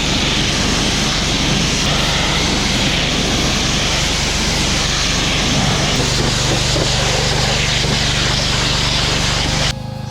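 Steady, loud engine drone of a 4,000 PSI gas pressure washer running close by without pause, a constant motor hum with a hissing spray wash on top, cutting off abruptly near the end.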